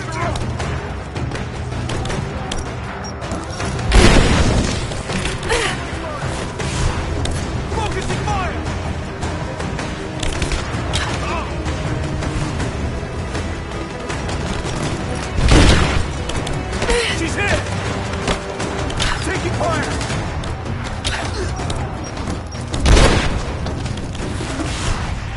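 Gunfire and explosions from the PS4 game Rise of the Tomb Raider: a dense, loud battle din under talk, with three heavy booming blasts standing out at spaced intervals.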